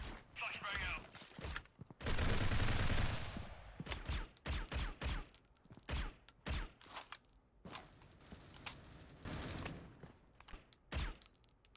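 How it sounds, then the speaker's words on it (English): Warning shots in the Critical Ops shooter game: bursts of rapid gunfire crack at varying distances, one long loud volley early on, with game footsteps and a commentator talking throughout. "Firing some warning shots right now"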